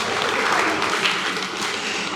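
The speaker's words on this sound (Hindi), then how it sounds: "चलिए तालियां बजा लीजिए।" An audience gathered at a Buddhist vihara in Nagpur claps together, a dense, steady wash of applause at close range that holds evenly throughout.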